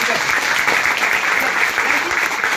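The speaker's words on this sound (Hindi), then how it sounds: "तो इसके लिए एक बार जोरदार ताली चाहूंगा" Loud, steady applause from an audience at an indoor home business meeting, dense clapping that fills the whole stretch without a break.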